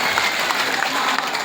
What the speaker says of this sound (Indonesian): tepuk tangan dulu buat semuanya ya.